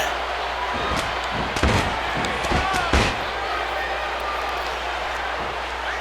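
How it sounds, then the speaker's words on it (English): In a wrestling match, a body slams hard onto the ring mat with a few sharp, loud thuds in quick succession, heard under a commentator's talk and crowd noise. "And now just picks him up with both hands and slams him down hard."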